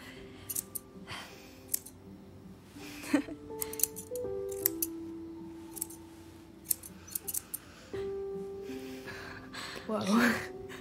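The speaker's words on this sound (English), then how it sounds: "Some dangerous-ass scissors." Scissors snipping hair in the game Tell Me Why, heard as sharp metallic clicks and snips scattered across the stretch, mixed with soft musical tones, a gasp and quiet voices talking.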